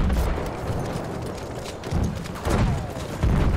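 Airburst mortar rounds land in a first-person shooter game, a string of muffled booms and rumbling blasts arriving in irregular bursts over continuous battlefield noise.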